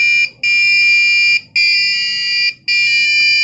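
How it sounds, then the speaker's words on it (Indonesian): A Wi-Fi hacker detector's alarm buzzer sounds loudly and steadily, a harsh electronic beeping tone repeated in three long bursts separated by short gaps. "buzzer akan berbunyi"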